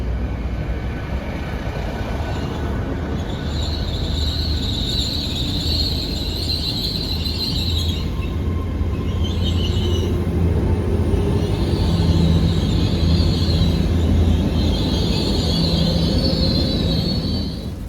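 A nine-coach Class 800 IET train stands at a platform at Reading before departing, giving off a steady loud engine and traction hum with faint high whines rising and falling over the rumble.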